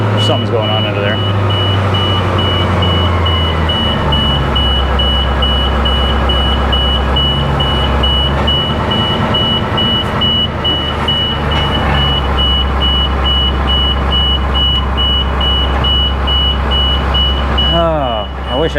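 An old school bus engine with a stuck throttle roars loudly and steadily up close, its revs sweeping and holding high while a constant high whine or beep sounds over it, and a voice is heard at times.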